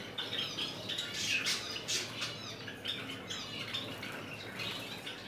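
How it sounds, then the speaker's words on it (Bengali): A Java sparrow bathes in water, giving repeated close, sharp squawking calls mixed with bursts of fluttering splashes, with no talking. "পানি দিলেই গোসল করে শীত গ্রীষ্ম বর্ষা কিছুই মানে না এই পাখিটি গোসল করার জন্য একদম পাগল হয়ে থাকে"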